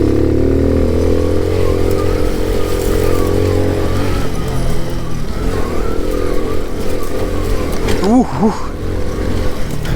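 A moped labours uphill on a motocross track through woodland, its small engine droning loud and steady close by for the whole stretch, with a brief exclamation from the rider near the end.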